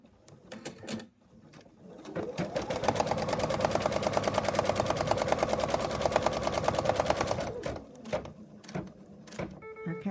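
Embroidery sewing machine stitching an in-the-hoop wallet pocket, a fast steady needle clatter running for about six seconds, with scattered clicks and taps before and after.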